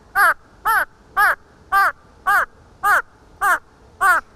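Eight sharp, harsh crow-like caws in a steady rhythm, evenly spaced and loud, with nothing else around them, imitated by a parrot.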